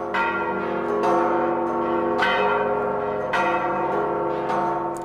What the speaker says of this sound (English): They are almost drowned out by the bell ringers of the Catholic cathedral